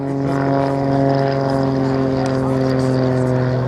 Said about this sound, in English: A very lightweight, very efficient aircraft, as befits a product of Grob, a German manufacturer.